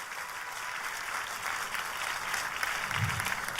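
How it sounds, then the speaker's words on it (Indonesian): An audience at an Indonesian church sermon breaks into sustained applause, a dense even wash of clapping that holds steady at moderate loudness from start to finish. "Kita berikan tepuk tangan yang paling meriah."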